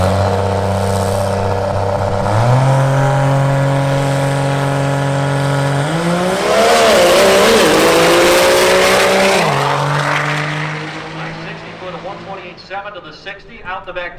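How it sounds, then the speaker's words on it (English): A drag racing truck sits on the rev limiter with a steady droning roar, then launches hard, its engine climbing and shifting through gears, loud and close, before fading into the distance with faint crowd noise at the end. "got the truck up on the limiter, staged good, and the truck just left"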